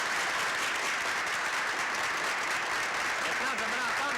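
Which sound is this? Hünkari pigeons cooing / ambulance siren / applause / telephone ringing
applause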